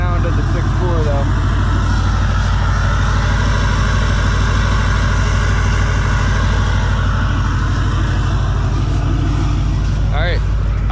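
A 6.4 engine idles on a cold start, a loud, close, deep rumble that runs unbroken and steady, with a brief higher rev-like sweep near the end.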